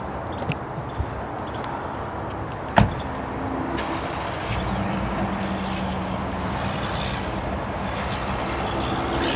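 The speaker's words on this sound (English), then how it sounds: "I'm gonna back the truck up here." A pickup-type truck backs up outdoors with a continuous low engine drone and one sharp knock early on.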